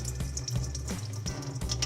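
Tap water runs steadily from a faucet to wet a paint brush, a close, soft rushing stream with slight splashy fluctuations.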